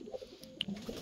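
Pigeons in a home pigeon house give soft, low cooing in a short, quiet burst, with a brief sharper chirp partway through.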